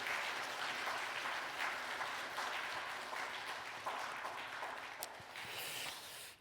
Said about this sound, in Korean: 우리 힘차게 박수 한번 하도록